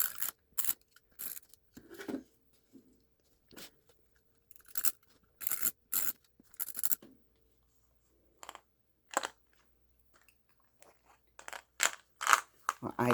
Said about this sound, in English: I'm going to use a tape runner for that.